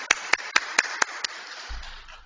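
Six sharp, evenly spaced claps from a single pair of hands in a church, close and distinct, fading into quiet room noise with a low rumble at the end.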